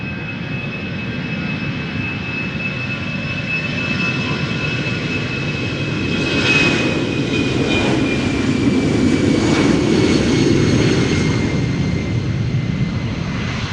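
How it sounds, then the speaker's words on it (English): An Airbus A319 taking off from Schiphol Airport, outbound to Manchester: a loud, sustained jet engine roar with a whining tone that swells slightly midway, heard outdoors at a distance with no talking. "A319 outbound Manchester."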